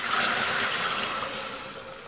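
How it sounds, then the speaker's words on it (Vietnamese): Pickle brine is poured from a bowl into caramelized sugar in a pot, making a near, rushing splash of liquid that eases off slightly toward the end. "mình sẽ cho cái phần nước dưa nãy mình vắt trong cái thố đó"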